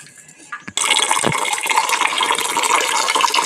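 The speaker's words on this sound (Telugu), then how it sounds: "కొద్దిగా నీళ్లు కలుపుకొని" Water is poured into a bowl of curd, a close splashing, gurgling stream that starts abruptly after a few small clinks and keeps running steadily to the end.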